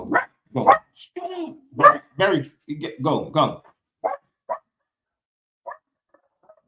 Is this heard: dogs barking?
yes